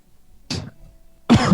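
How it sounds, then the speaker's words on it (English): Two sharp coughs close to the mic, the second heavier, separated by a short quiet pause. "I was coughing."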